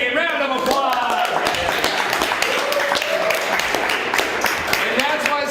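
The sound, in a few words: audience applause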